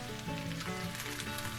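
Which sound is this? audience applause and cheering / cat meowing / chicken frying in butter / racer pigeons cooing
chicken frying in butter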